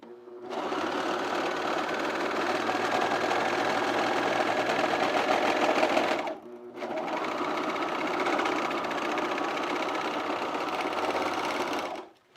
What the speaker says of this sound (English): I'm going to overlock this really quick.